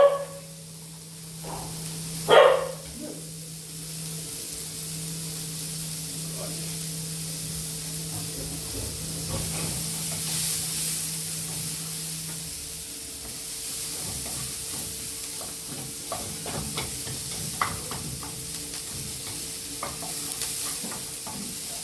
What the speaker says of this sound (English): Gonna saute them up, guys, and then I put in the fish.